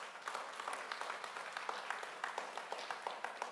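Audience applause at a Maryland announcement event with state leaders, a moderately distant spread of many hands clapping steadily with scattered sharper claps, no talk over it.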